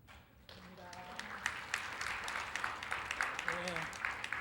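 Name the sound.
church congregation applause at graduation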